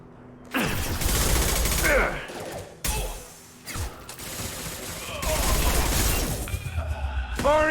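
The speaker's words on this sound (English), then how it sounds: "Firing concussive shot!" Concussive Shot power being fired in Mass Effect Legendary Edition, heard as loud explosive blasts and crashing impacts over layered combat noise. Several sharp bursts come in quick succession, with brief lulls between them.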